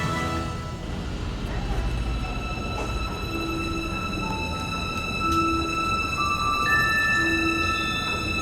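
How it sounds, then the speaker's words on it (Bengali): Inside a Taipei Airport MRT rapid transit train, a steady rumbling rolls on throughout, with faint tonal whines and occasional short tones layered over the continuous running noise. "আমরা এবার একটা ট্রেন ধরবো, যে ট্রেনটাকে বলে এয়ারপোর্ট মেট্রো র্যাপিড ট্রান্সপোর্ট"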